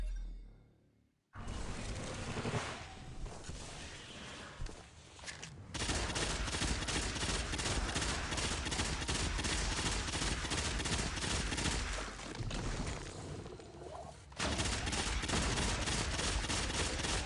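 Bad Juju weapon in a video game firing rapidly in long, dense automatic bursts, loud and close, broken by a couple of brief pauses, with no voices.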